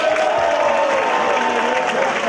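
An audience at a contest preliminary round applauds and cheers in a steady, close burst, with crowd voices and a tonal sound running underneath.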